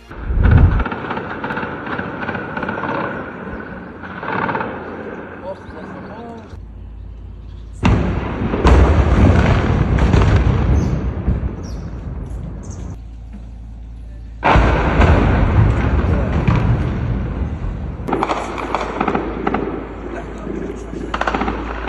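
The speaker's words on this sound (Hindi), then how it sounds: "अब हाल ये है कि मलबों के ऊपर भी इजराइल बम मार रहा है" Heavy bombing and gunfire in Gaza: loud booming explosions and crackling bursts of fire come in waves, with voices talking over the blasts at times.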